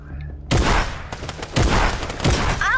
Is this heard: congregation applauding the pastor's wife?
no